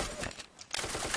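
Rapid bursts of gunfire from the blocky first-person shooter Ace of Spades, in a zombie mode, crackling in two short volleys with a brief lull between them, fairly quiet and without talk.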